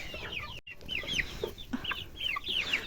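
Chickens clucking and calling in a garden, repeated short chirpy clucks from several birds close by, continuous and lively with no talking.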